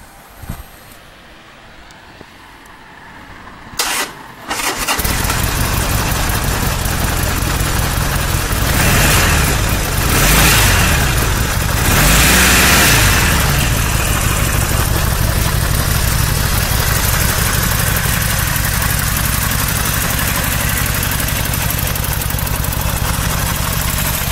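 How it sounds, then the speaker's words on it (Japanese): A 2009 Harley-Davidson XL1200N Nightster motorcycle engine cranks and fires after a few seconds of quiet, then settles into a loud, steady, close-up idle with a throbbing rumble that holds to the end. "エンジンをかけてみます"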